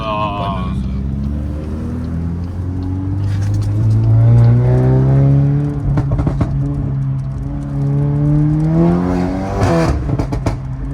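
A modified biturbo Toyota Supra engine revs up and down loudly nearby, rising and falling in pitch over a steady rumble, with people talking over it.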